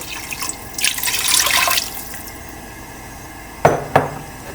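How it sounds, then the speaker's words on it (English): Water from a cup is poured into a frying container of chicken, a short splashing pour followed by quiet and then two sharp clinks of the pan or cup. "We're going to put in 1 cup of water."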